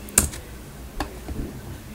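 Keyboard typing into a search box: a few quiet, scattered key clicks with short pauses between them, close by, with no talking.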